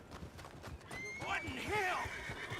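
A horse neighs in Red Dead Redemption 2, a rising and falling whinny over clip-clopping hooves, close and clear, with a voice talking around it.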